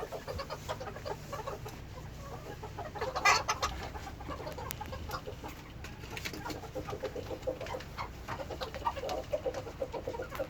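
Chickens cluck and murmur close by in a busy, continuous flock chatter, with a louder burst of calls partway through and no talking.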